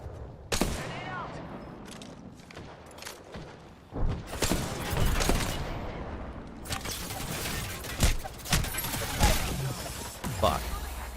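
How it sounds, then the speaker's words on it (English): Video game combat with a thrown grenade and bursts of gunfire, heavy thumping blasts and rapid fusillades, loud and dense throughout. "Grenade out."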